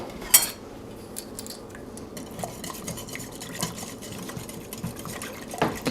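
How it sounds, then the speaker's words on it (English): Cream cheese stirred into an Instant Pot set to saute for chicken salsa soup: repeated scraping and clinking of a utensil against the metal pot, with soft squelching between the louder knocks. "we're going to turn our Instant Pot onto saute and we're going to mix in our cream"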